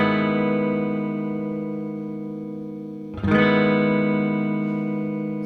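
An open chord rings out on a distorted electric guitar, sustaining and slowly fading, then gets strummed again with a fresh scratchy attack.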